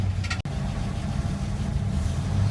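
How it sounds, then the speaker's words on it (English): 1947 GMC truck engine idling in a yard, a steady low rumble that keeps going, with a brief sharp click near the start. "I'm idling it, waiting for it to come up to temperature."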